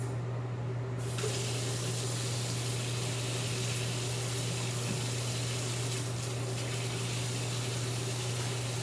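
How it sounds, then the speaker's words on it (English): Running tap water pours steadily into a kitchen sink while hands are washed, a continuous close splashing hiss throughout with no talking. "let me wash my hands"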